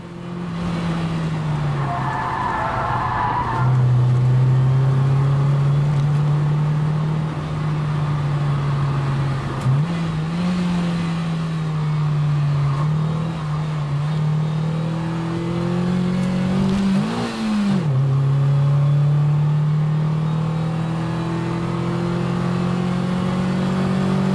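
An MG F sports car drones steadily at high revs around a race track, the engine note rising and falling through gear shifts, with brief tire squeal.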